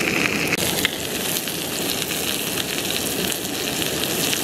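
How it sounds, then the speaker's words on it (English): Steak frying in a pan at a wild camping spot, a loud, steady close sizzle with crackling spits throughout and no voices. "Steak's in the pan, cooking nicely."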